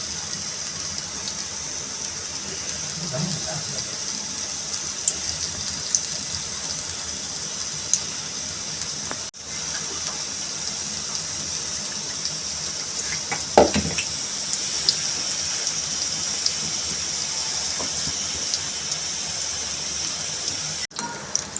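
Methi gota, fenugreek fritters, frying in hot oil, giving a steady broad sizzle and hiss that runs the whole way through, with a few soft pops and bubbling surges near the middle.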